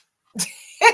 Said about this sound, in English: Bless you, Chocolate.